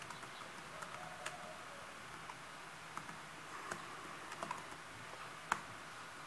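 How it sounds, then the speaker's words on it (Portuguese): Sparse, soft clicks of keys on a computer keyboard as a command is typed, irregular taps spread out with quiet room noise and no talk. "digitei a linha e agora eu vou pressionar o Enter"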